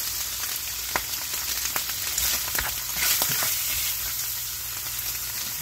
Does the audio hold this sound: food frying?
yes